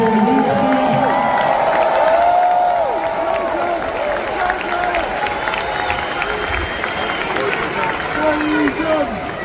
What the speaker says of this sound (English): Let's give a round of applause for this wonderful crew,